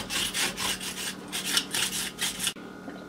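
A knife scrapes the skin off a bitter melon (karela) in close, repeated rasping strokes for about two and a half seconds, then the scraping stops and leaves a quiet room.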